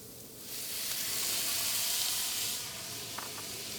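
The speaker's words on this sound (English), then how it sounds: "They sizzle up a little bit." Artichokes sizzle in a hot pan, a bright crackling hiss that swells up and then eases, with a couple of small taps near the end.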